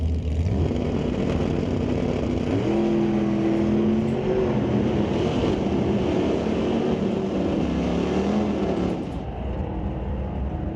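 A 1970 Plymouth Cuda and a 1969 car line up at an old-time drag race. Their loud, close, continuous engine rumble has pitch steps and revs layered over a thick low roar throughout.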